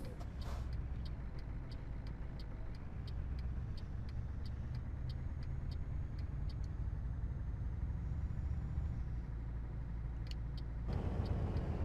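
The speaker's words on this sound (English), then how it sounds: "Wow, the Scania sound has changed." A Scania truck engine in Euro Truck Simulator 2 runs with a steady, loud drone. It carries on for several seconds under faint ticking clicks and rises slightly near the end.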